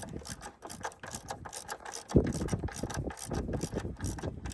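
Socket ratchet clicking rapidly and rhythmically as it draws a PowerFlex engine mount bushing insert into place on a Hyundai Elantra N, close and steady with a brief heavier clunk midway.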